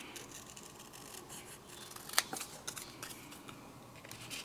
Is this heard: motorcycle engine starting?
no